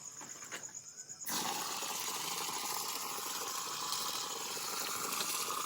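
Water pours into a geese feeding trough, starting abruptly after a quiet second and then running as a steady, close rushing splash to the end.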